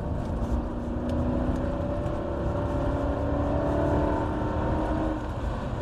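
A Jaguar XK8 engine wound up in sport mode gives a dense, steady roar from inside the car, with rising tonal whine as it slowly builds speed.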